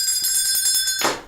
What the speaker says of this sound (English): My husband hates when I ring that bell.